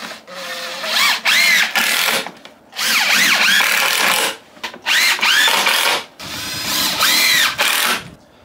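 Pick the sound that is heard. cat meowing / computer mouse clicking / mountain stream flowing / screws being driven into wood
screws being driven into wood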